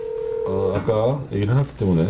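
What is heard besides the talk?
telephone dialing tones of a call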